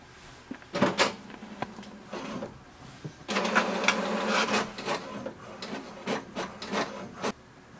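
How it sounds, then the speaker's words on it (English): An HP Deskjet 2700 inkjet printer prints a page, with mechanical whirring, paper-feed rubbing and a run of sharp clicks and clacks from the carriage, close and alone without talk. "press this information button once and it will print a page."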